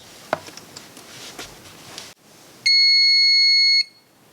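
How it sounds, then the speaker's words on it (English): Cellink B dashcam battery sounding a steady electronic beep of about a second as power connects to it in a car, following quieter background rustle and a small click. "One of the most annoying things that I found about the Cellink B is every time it gets power, it beeps"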